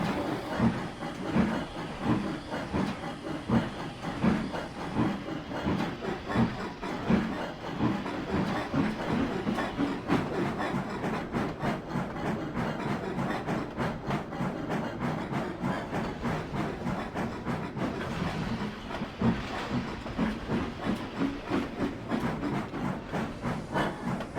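A steam train chugs steadily in a Trainz railway simulator, with rhythmic clattering and hissing, a continuous mechanical rumble at moderate volume.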